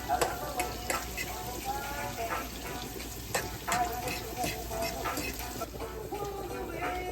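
Seasoning sizzles and fries in a pan with a steady crackling hiss, broken by occasional louder spits and pops close by.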